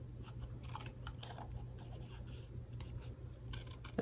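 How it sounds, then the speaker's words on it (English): Scissors cut straight across decorative cardstock for a papercraft panel, giving a faint, close run of soft snipping and rasping strokes in a quiet room. "We're just gonna take our scissors. And I'm just gonna cut straight across."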